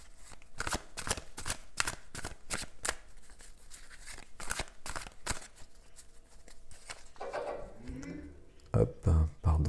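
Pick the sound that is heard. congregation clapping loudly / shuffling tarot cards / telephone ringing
shuffling tarot cards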